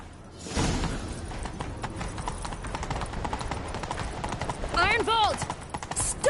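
Hooves of a galloping horse in The Witcher 3, a steady rapid clip-clop close by with rhythmic thuds, a horse whinny rising near the end over continuous game ambience.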